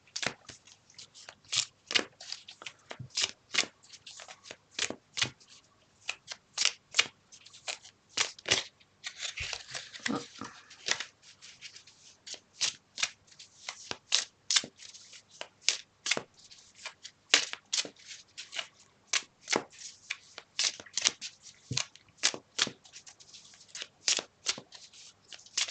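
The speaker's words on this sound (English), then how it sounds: "Let's see what the cards have to say, Kristen" Tarot cards shuffled by hand over and over, a long run of crisp riffling bursts in an uneven rhythm, close and fairly quiet with no talking.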